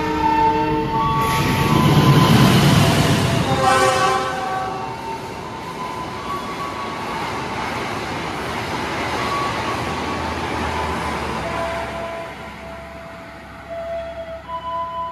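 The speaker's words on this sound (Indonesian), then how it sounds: "Ini ada kereta api Argo Bromo Anggrek yang akan ngebut di sini" The Argo Bromo Anggrek express train speeds past in a loud rush that swells early, with horn-like tones, then settles into a long, steady rolling roar that slowly tapers; no voices.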